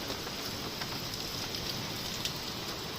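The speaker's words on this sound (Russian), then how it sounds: "Вот и прошел дождик." Heavy rain falls in a village garden plot, a steady dense hiss of drops on surfaces that stays even and continuous throughout, with no voices.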